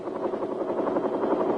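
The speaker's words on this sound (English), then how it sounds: "While the sounds of helicopters can be heard throughout Vietnam on various missions" Bell UH-1 Huey helicopter flying in Vietnam during 1967, a steady rapid rotor chop over a broad engine roar, loud and continuous throughout.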